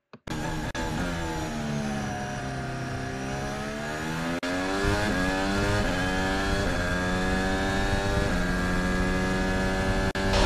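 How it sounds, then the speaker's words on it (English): A Red Bull Formula 1 car engine at the 2021 Abu Dhabi Grand Prix drones steadily at high revs, its pitch dipping and climbing through gear changes, loud and continuous with a faint hum underneath. "you heard that change of engine note from Perez"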